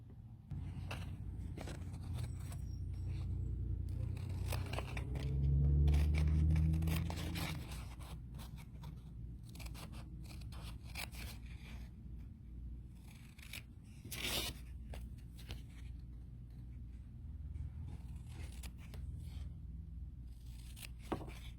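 Scissors cut out paper-piecing shapes with quiet, intermittent snips and rustling of paper, faint and close, in short irregular bursts.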